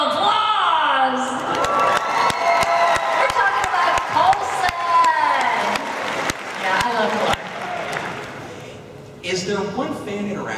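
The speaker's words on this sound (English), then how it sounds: "Why didn't Clark Gregg get a little applause?" A Dallas Comic Con convention crowd cheers and whoops with sharp claps scattered through it, rising and falling for several seconds, while voices shout and talk over the noise.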